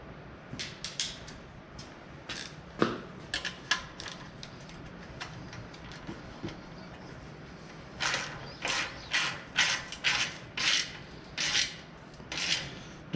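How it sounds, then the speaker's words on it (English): Ratchet wrench snugging an exhaust clamp on a 2017 Harley-Davidson Ultra Classic 107 with Rinehart dual exhaust, heard as bursts of quick clicking strokes, sparse early on, then a steady run of repeated pulls near the end. "let's tighten up this clamp a little bit"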